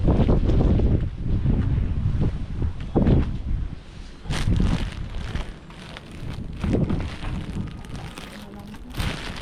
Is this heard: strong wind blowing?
yes